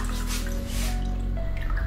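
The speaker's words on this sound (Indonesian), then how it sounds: "sampai airnya nggak ada yang netes lagi." Water dripping from a Phalaenopsis orchid pot after soaking in water, a close, steady patter of drops falling into water, heard alone.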